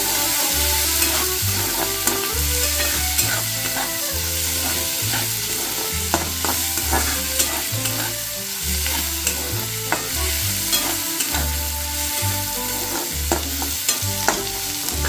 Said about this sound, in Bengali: তিনটে কাঁচা লঙ্কা দিয়ে দিলাম দিয়ে ভালোভাবে ফ্রাই করে নিতে হবে